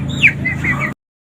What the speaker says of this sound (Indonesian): ini ras dari ayam Wiandote ya, sedangkan ini adalah ayam Beretrok